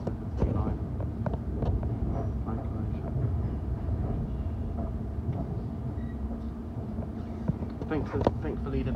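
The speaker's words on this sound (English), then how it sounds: "there is 390-126 pulling into Euston" Low rumbling of a Class 390 electric train pulling into London Euston station, a steady rolling drone with faint clanks and squeals, heard from nearby on the platform while a person speaks.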